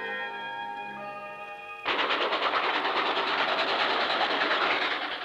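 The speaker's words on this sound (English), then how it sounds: "At Festiniog we find a miniature railway, just right for the traffic of a miniature state." The Festiniog miniature railway in Wales runs with a sudden onset of rapid, rhythmic clatter of wheels on track after a short tonal lead-in, then a loud, even stream of clicking that continues to the end.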